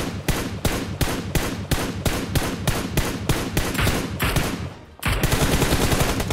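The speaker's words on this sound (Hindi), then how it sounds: "वाच आउट, सर गोली चल रही थी।" Gunfire in a video game shooter played on a live stream: rapid, loud automatic shots crack in a steady run of close bursts, briefly thin out, then resume densely, with no talking.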